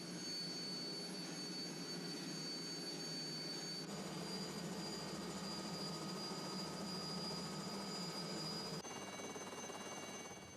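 Aircraft engine drones steadily and loudly throughout a takeoff bound for Round Island, a dense continuous roar with a bright high whine and small shifts in tone as power builds.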